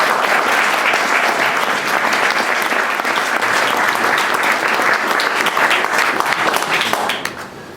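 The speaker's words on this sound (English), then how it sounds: "So I want to give everybody who presented a round of applause." Sustained applause from an audience at a San Francisco transmedia presentation evening, dense steady clapping throughout that tapers off at the end.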